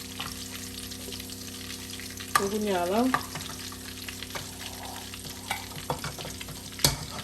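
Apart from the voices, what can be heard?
hot dogs frying in oil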